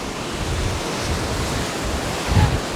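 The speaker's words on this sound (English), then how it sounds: "we're here in the sunny beach of Kerong Samleom" Surf rolls onto a sunny beach at Kerong Samleom in Cambodia as a steady, broad wash of waves, with a slightly heavier surge near the end and no voices.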